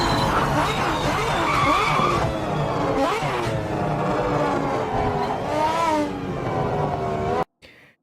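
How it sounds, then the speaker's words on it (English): Race car engine in Project Motor Racing, a four-rotor car, shifting down through the gears while tires skid and squeal. The engine is loud and continuous with repeated rev dips and jumps, then it cuts off abruptly near the end. "Listen to the downshifts."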